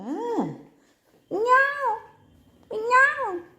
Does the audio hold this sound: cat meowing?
yes